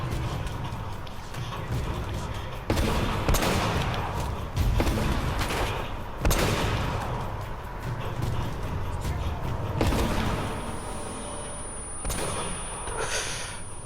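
Gunfire in the Uncharted video game: repeated loud shots and booming bursts crack through a dense, continuous din of battle noise, with sharp blasts spaced irregularly throughout.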